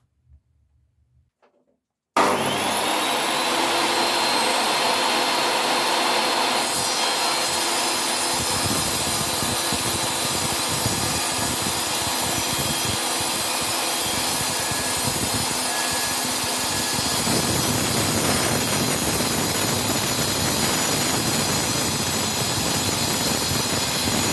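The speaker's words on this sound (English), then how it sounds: "This time I will use a 54-tooth triple-chip grind blade" A table or circular saw fitted with a 54-tooth triple-chip grind blade cuts through a panel, starting abruptly after a moment of quiet and running as a loud, steady whine with a low grinding rumble for the full length, with no talking.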